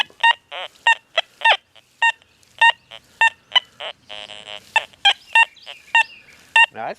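Minelab Deus 2 metal detector in full tone mode sounding off over a deeply buried clad dime: a rapid run of sharp, clear electronic beeps in uneven bursts, with a brief buzzing warble partway through, loud and close.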